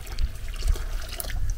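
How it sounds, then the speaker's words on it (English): Water poured into lime for plastering, a soft, faint trickling and splashing of liquid in a container, heard alone. "So I'm going to put some water in now"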